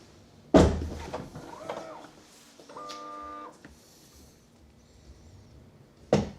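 A Tesla Cybertruck Cyberbeast's rear door is worked, with a sharp thunk of the latch, a soft whirring electronic tone in between, and a second solid thunk at the end.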